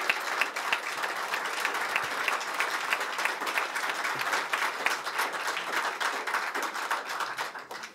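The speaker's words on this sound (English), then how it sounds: "please give a warm round of applause for the Honorable Wilson Livingood" Warm, loud audience applause for an award recipient at a leadership award ceremony, a dense, continuous patter of many hands clapping, sustained evenly for about eight seconds.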